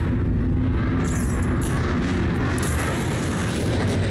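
A missile explosion in the space combat game Star Citizen, a dense continuous roaring rumble heavy in the low end with a bright hiss layered on top, loud and sustained, with no talking.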